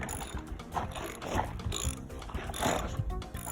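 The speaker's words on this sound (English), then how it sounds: "This is a big man putting a lot of torque on this wrench here." Ratcheting clicks come from a wrench being turned hard on generator parts, a short, close run of rapid mechanical clicking at modest level.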